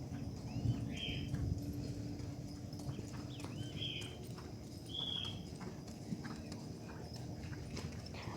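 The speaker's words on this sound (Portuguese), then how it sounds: "era um ótimo trote, porque era um trote super impulsionado" The horse Rícaro trots on a training circle during show-jumping practice, and his hooves clip-clop in a steady, quick rhythm at moderate distance. Faint bird chirps sound in the background.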